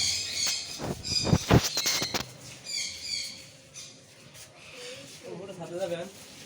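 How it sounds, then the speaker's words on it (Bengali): A person talks loudly at first, then small birds chirp and tweet in short high bursts nearby as the voice fades. "পাখির কিচিরমিচির"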